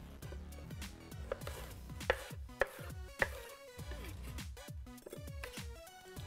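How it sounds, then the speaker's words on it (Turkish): A muddler crushes pear and boiled corn inside a cocktail shaker, producing a quick run of repeated dull thuds and knocks, with a few sharper hits standing out. "Tokmak yardımıyla bunu güzelce eziyorum."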